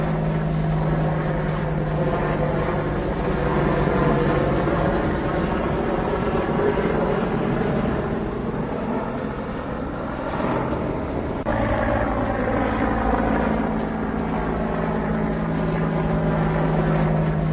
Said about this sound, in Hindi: एक्शन में AH-64 अपाचे अटैक हेलीकॉप्टर